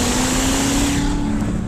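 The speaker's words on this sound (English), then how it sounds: "Valves in the exhaust open up." Corvette ZR1 engine roaring at full throttle with the exhaust valves open, a loud, steady, close-up drone that holds its intensity throughout.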